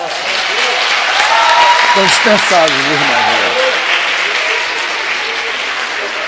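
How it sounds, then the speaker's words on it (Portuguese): A church congregation applauds throughout a worship service, a loud, sustained wash of clapping from a full room while someone speaks over it. "Vocês podem aplaudir o Senhor?"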